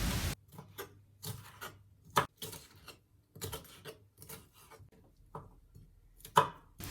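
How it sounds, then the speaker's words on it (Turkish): Irregular knife strikes on a cutting board as small peppers are chopped, quick chopping bursts with pauses, fairly close and moderately loud. "Birkaç tane küçük kapri biber doğranır."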